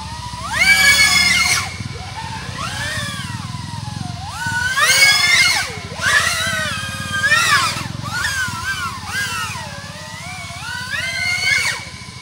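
An OddityRC XI35 Pro 3.5-inch 6s cinewhoop FPV quadcopter flying freestyle, its loud whining props rising and falling in pitch through repeated throttle bursts and power loops, close and continuous.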